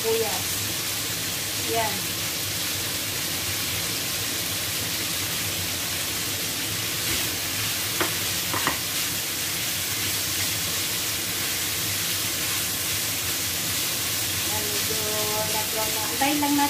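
Pork belly fries in a pan with a loud, steady, close hiss that barely changes throughout, and a brief spoken word comes through near the start.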